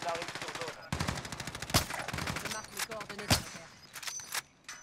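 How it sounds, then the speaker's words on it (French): Rapid automatic gunfire in Warzone rattles in fast close bursts, punctuated by a few louder single shots and trailing off into scattered distant rounds, with talk faintly underneath. "Je subis des tirs."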